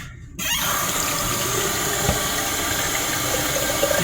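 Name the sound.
water tap rinsing salted possum meat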